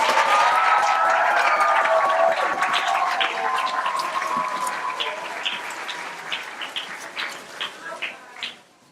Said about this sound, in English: let's give our students another round of applause